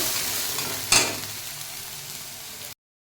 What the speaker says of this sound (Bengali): এই যে কাঁদার পাতাটা বেটে নিয়েছিলাম এটা দিয়ে দিলাম ভালো করে কষিয়ে নিতে হবে